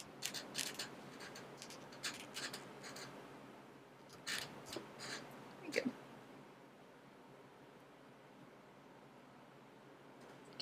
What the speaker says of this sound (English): and then cut the yarn